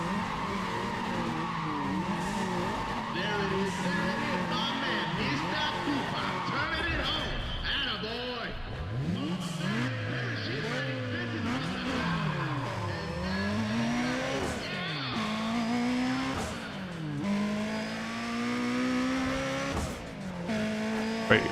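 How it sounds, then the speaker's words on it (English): Race cars in a half-mile drag race in the video game Need for Speed: ProStreet roar and rev continuously, with engine pitch sweeping up and down and tires squealing in skids, all under steady talk. "this is a half-mile drag race"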